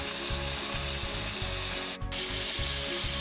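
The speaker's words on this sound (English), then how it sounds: "Just flipped it over and we're searing the bottom of them now" Honey mustard pork chops sear in a hot pan after being flipped, a loud, steady close sizzle with a rhythmic pulsing undertone and one brief dip near the middle.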